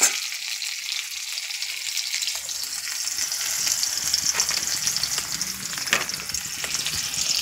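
Chopped onions fry in a pan and get stirred, a steady close sizzle that swells slightly midway, with occasional spoon scrapes and clinks and no talking.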